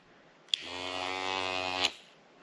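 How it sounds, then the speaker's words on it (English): A modified Conair beard trimmer with its top removed and an eye hook screwed onto the rotating post, used as a thread and tinsel twister, buzzes with a steady motor hum for about a second and a half, starting and stopping with clicks. "This is just a Conair like hair trimmer, a beard trimmer."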